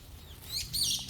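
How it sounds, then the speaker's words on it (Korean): Birds sing on a mountain trail, a couple of brief high chirping calls rising over soft outdoor ambience and low rumble, moderately near and fairly faint. "새소리가 굉장히 반갑네"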